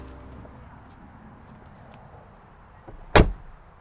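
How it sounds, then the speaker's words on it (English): A 2019 Mercedes-Benz G-Class door shuts once with a solid, heavy thud close by, after a few seconds of quiet background rumble. "I even love how Mercedes-Benz made sure they retained that sound whenever you close the car."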